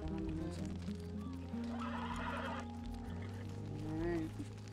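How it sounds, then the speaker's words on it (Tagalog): A horse whinnies amid a busy outdoor scene, with music and background voices beneath it; the neigh rises briefly midway and is partly masked by the surrounding sound. "Aking minamahal na kabayo."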